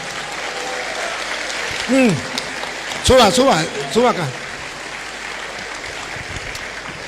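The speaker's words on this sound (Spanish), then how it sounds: "Fuerte, que se oigan los aplausos." An audience at a Catholic apologetics event with a priest claps to welcome a man onto the stage, a steady wash of applause rising and swelling under a voice speaking Spanish over it.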